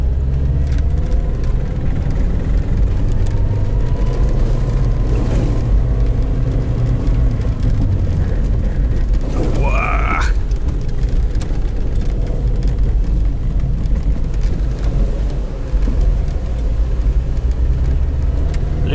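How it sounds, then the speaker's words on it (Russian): A Lada Niva drives along a road past a pine forest belt in winter, its engine a steady low rumble and drone throughout, with a brief rising whine partway through. "Ну, вот автомобиль идет уверенно."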